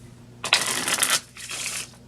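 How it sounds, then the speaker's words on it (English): A deck of playing cards is shuffled close by: one loud riffling burst lasting under a second, then a shorter, softer second riffle, with no talk during it. "I'm going to shuffle them up"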